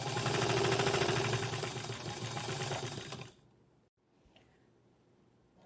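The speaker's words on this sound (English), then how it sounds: "now I'm just going to stitch it down. I'm going to stitch it all the way around." A sewing machine stitches binding around the bottom edge of a scrappy fabric tree skirt, running loud and steady for about three seconds before stopping abruptly, leaving near silence.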